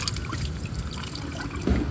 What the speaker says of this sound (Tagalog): Parang maliit na batis na ginawa. Man-made.